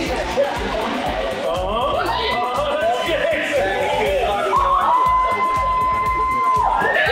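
Rowdy crowd in a Rock & Brews restaurant in The Colony, Texas, cheering and shouting through a Cinco de Mayo eating challenge, a loud continuous wall of voices and whoops with chatter mixed in.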